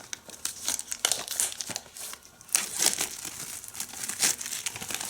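Plastic wrapping on a Land Before Time complete DVD collection, movies 1-13, gets cut open and crinkled, making close, busy crackling and tearing rustles in uneven bursts with no voice.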